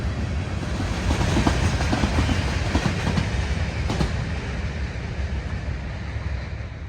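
Freight train cars roll steadily past at dusk, a continuous loud rumble with faint rhythmic clicks of wheels over rail joints and no voices.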